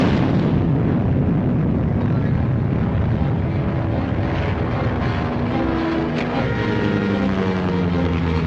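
A film-serial sound effect of a bomb exploding aboard a plane: a loud, sustained roar of aircraft engine and blast rumble filling the whole stretch, dense and continuous with a sharp crack near the end.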